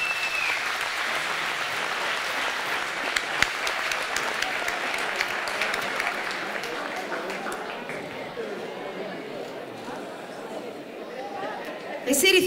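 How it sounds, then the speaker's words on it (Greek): Sustained applause from a crowd at a Greek album launch event, thick and steady at first, then thinning out, with murmured chatter and voices mixed in beneath the clapping. "Ένα θερμό χειροκρότημα εδώ στην κούκλα μας."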